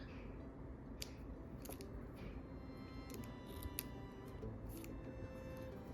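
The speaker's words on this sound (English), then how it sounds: "Get my micro tip scissors out." Micro tip scissors snip through paper in a quiet room, a handful of crisp, close, irregularly spaced cuts, some in quick pairs.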